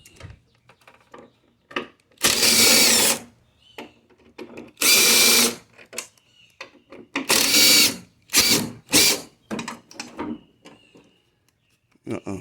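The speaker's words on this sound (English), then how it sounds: "I forgot to remove these battery box bolts" A power drill removes battery box bolts on a GMC Yukon XL, whirring in several loud bursts of about a second each, separated by quiet gaps with light clicks and handling noise.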